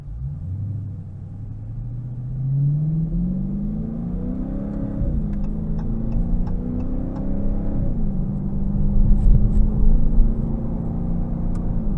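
A 2022 Dodge Challenger R/T Scat Pack with the 392 V8 accelerates in sport mode, its deep engine rumble rising in pitch through gears with shifts, loud and continuous from inside the cabin.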